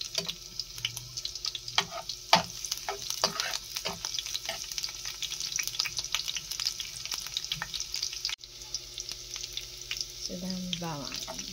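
Onions fry in a pan for pancit bihon with sardines, a steady close sizzle broken by clinks and stirring scrapes, with no talk.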